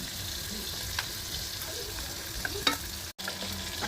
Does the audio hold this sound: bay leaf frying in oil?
yes